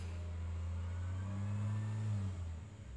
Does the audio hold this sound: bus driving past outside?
yes